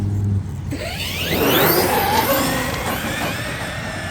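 Traxxas Sledge RC monster truck driving at stock gearing, a loud whirring electric drive sweeping up and down in pitch as it passes nearby outdoors.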